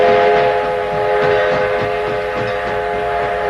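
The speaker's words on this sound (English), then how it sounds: "The troop train rolled into Kansas City one more time today" A troop train rolls into the Kansas City station, its whistle sounding loud and sustained over the continuous rumble of the cars.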